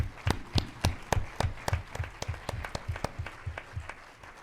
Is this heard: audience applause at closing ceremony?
yes